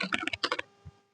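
A computer keyboard typed on in a quick burst of about a dozen close, crisp key clicks, then one last soft tap after a short pause.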